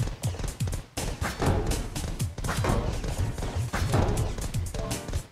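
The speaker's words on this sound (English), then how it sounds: "Hey, they're shooting things." Enemies shooting in the video game Ballpoint Universe Infinite: a steady run of quiet thumping shots and small impacts over game music, fairly faint and continuous.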